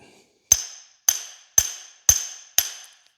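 Five sharp metallic strikes at an even pace, each leaving a bright, hollow ringing decay; close and loud, with no talking.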